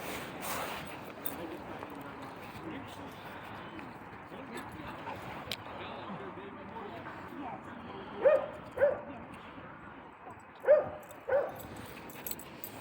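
At a dog park, a dog gives a few short, sharp barks close by, spaced in two pairs toward the end, over a low outdoor background with faint voices.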